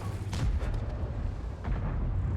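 Tank cannon fire from a Centurion Action X in the World of Tanks video game: several heavy booming blasts in quick succession over a constant loud rumbling battle background, with no talk.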